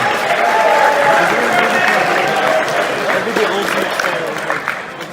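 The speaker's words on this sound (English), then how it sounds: "Please give them a round of applause." A convention audience in Houston applauds steadily throughout, a dense wash of clapping that holds level and then tapers slightly toward the end.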